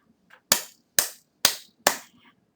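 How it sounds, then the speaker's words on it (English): Four sharp, loud claps from a teacher during a primary maths lesson, evenly spaced about half a second apart, standing alone in an otherwise quiet room. "That clap is for you."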